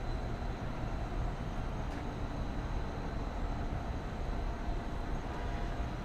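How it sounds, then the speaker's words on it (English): A train rolls along elevated tracks in Midtown Miami at night, a continuous broad rumble and rattle heard from a short distance, steady in level throughout and with no voices over it. "I'm not sure which train line this is."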